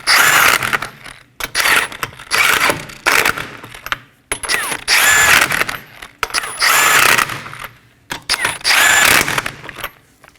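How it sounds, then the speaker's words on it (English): Brake hose bolts on a 2015-2023 Nissan Maxima being snugged down in a crisscross pattern, with repeated bursts of a ratcheting tool, each a second or so long, separated by short pauses, loud and close. "Now we're going to snug these down in a crisscross pattern."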